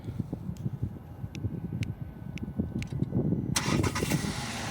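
A 2021 Volkswagen Tiguan Allspace R-Line TSI starts by remote key fob, with an engine rumble building under wind noise and several faint chirps before a brighter surge near the end.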